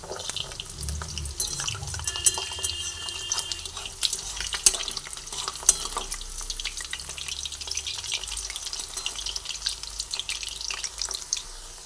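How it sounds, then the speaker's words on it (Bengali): Pakoras made with yogurt and semolina frying in hot oil and being turned one by one, with a continuous bubbling sizzle and occasional sharp clinks from the utensil, close up with no talking. "একটা দিক ভাজা হয়ে এসছে তাই জন্য এক এক করে উল্টে দিচ্ছি"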